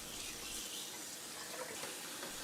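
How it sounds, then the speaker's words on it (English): Cold tap water runs steadily into a sink as a whole duck is rinsed beneath it, a soft continuous splashing flow heard close up. "clean your duck by rinsing it several times in cold water."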